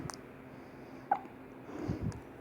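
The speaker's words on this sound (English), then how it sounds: "Who gave baby hiccups?" A baby's hiccups, a few short soft catches spaced apart in a quiet room, with faint low murmuring around them.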